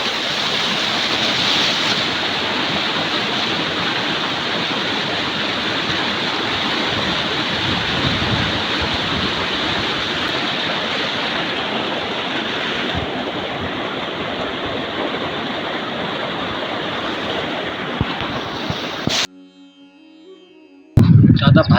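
Vasudhara waterfall with mountain water flowing below, a loud, continuous rushing roar close by that holds steady for nearly twenty seconds before cutting off.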